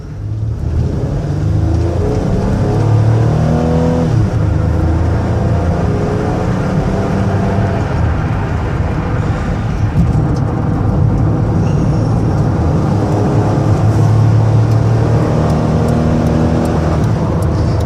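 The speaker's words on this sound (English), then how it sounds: "you can hear it run, you can hear it drive, hear the transmission shift, hear the engine run out" A 2007 Ford Freestar SE minivan engine drones steadily as it accelerates to about 70 mph, the pitch climbing and dropping back as the transmission shifts through gears, with continuous road noise throughout.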